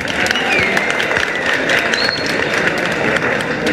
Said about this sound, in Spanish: Un fuerte aplauso para Andrés